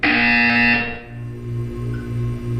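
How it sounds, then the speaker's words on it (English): A harsh electronic buzzer blares loudly in Portal 2 for about a second, then cuts off, leaving a low pulsing hum that repeats in a steady rhythm. "You will hear a buzzer."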